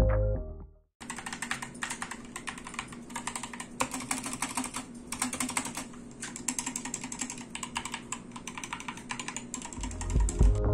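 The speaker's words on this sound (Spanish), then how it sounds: "Tiene una buena sensación al teclear, y como pueden ver, los switches no son en exceso ruidosos" Fast, continuous typing on an Epomaker SK61 mechanical keyboard, close and crisp, with dense clicky bursts and short pauses between runs of keystrokes.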